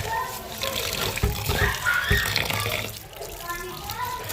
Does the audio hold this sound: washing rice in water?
yes